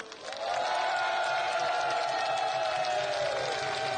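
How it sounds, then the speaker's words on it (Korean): At a Korean farmers' rally, a large outdoor crowd answers with a swelling roar of cheering and applause that rises quickly and holds as a loud, steady wash of voices and clapping. "힘찬 격려의 박수 함성 한번 부탁드리겠습니다"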